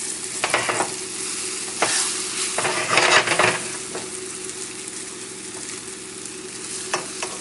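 A sole fillet sautéing in a pan over a high flame, a steady close sizzle broken by bursts of louder spitting and a few metallic clinks of utensils against the pan, with no voices.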